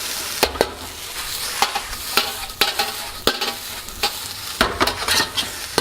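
Special fried rice stir-fried with sesame oil and white pepper in a hot pan, steady close sizzling punctuated by regular scraping strokes of the spatula, with no talking.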